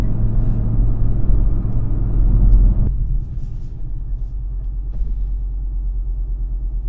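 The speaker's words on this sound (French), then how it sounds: "Le bruit du ralenti est sympa." A 2020 Audi RSQ3 engine idles with a deep, loud, steady rumble that drops to a lower, slightly pulsing throb partway through, heard close by with no talking.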